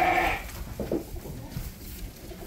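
Turcana sheep bleat at a sheepfold in the village of Rușor, with a couple of short, muffled bleats over a noisy outdoor background.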